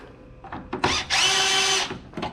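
A power drill drives a bolt while a headlight is installed on a 1993-1995 Ford Lightning pickup, two short whirs followed by a longer loud steady run, close by, then a brief final burst.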